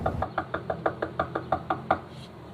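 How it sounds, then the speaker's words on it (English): A hand knocks on the door of a boarded-up home, about a dozen quick, evenly spaced raps in a brisk run, close and clear, with no voices over them. "A few knocks, but no answer."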